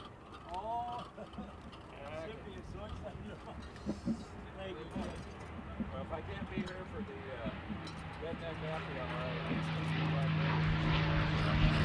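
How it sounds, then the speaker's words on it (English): Packard-built Rolls-Royce Merlin aircraft engine of about 1,500 horsepower running up to takeoff throttle at an airshow, a steady propeller drone that swells louder toward the end beneath continuous commentator speech. "Listen to the sound of the Merlin."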